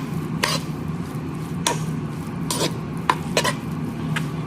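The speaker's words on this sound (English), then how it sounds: "While I try really hard not to scrape my non-stick pan" A spoon stirs food in a non-stick pan, scraping and clinking in a few distinct strokes over a soft, steady sizzle, close by.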